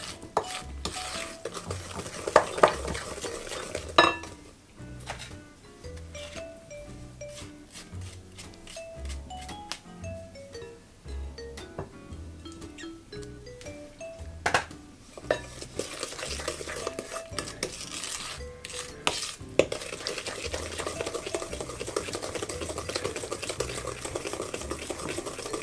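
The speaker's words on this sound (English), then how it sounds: "So make sure you're mixing this egg thoroughly." Eggs being mixed into blueberry muffin batter in a bowl: continuous stirring with repeated sharp clinks of a utensil against the bowl, close up, irregular rhythm over a long stretch, no voices.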